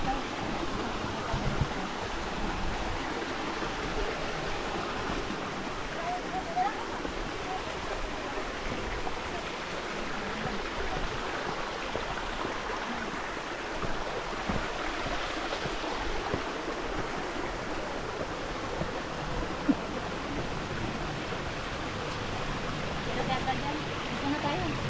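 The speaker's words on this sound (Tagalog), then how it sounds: "Dito tayo sa stream." A rushing mountain stream at Qiu Feng Stream, a constant broad wash of flowing water, moderately loud and steady, with voices talking faintly at times.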